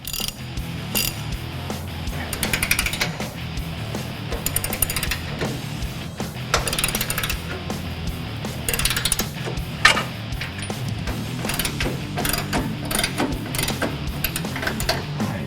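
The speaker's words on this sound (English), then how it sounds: "I'm going to loosen up the control arm bolts just a little bit" A hand ratchet clicks in quick repeated bursts while loosening control arm bolts on a Ford F-150 during a Roush Fox suspension install, close mechanical ticking with short pauses and a sharper knock partway through, no talk.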